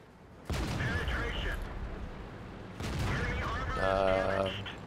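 Two booming tank cannon shots in World of Tanks ring out a couple of seconds apart, each a loud blast with a rolling tail, the second followed by metallic ringing game effects.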